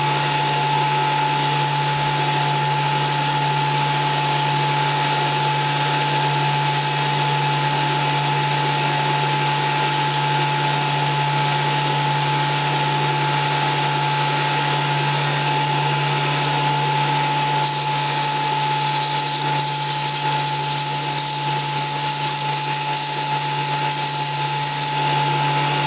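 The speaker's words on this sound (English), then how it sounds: "what I do is just put little notches in it by using the top of the belt sander" Belt sander notching the edge of a bone scythe, running as a steady, close whirring drone with a constant pitch and a faint gritty grinding layered over the motor hum throughout.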